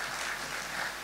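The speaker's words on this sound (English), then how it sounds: "Round of applause, please." A conference audience at the Africa Blockchain Conference 2018 applauds after a presentation, a brief, full wash of many hands clapping at moderate distance.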